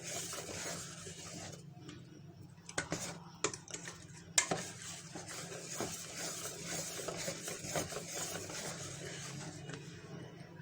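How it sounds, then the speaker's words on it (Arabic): Cake batter stirred as flour is folded in for an orange cake, with a steady scraping swish and a few sharper knocks of the utensil against the bowl, fairly quiet and without speech. "اقلبها بقى لحد ما اخلص الدقيق كله، كل الدقيق يختفي"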